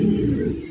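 Pigeons coo steadily inside a loft, a close, continuous low murmur of several birds layered together with no talk over it.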